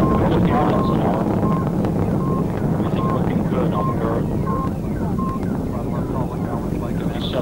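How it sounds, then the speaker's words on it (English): Apollo 11 rocket liftoff: a dense, steady broadband roar holds for the whole stretch, with short tone beeps at a regular rhythm and a murmur like distant voices underneath. "Liftoff on Apollo 11."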